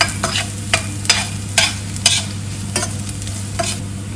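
Dried bird's eye chillies frying in hot oil while being stirred, a bright sizzle under a low steady hum, with sharp scraping strokes roughly every half second, close and clear.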